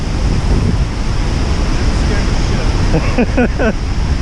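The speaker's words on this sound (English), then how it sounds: "That's some level 3 rapids right there." Rushing river rapids at Yellowstone: a loud, continuous roar of churning water with heavy wind buffeting the microphone, and a voice speaking briefly near the end.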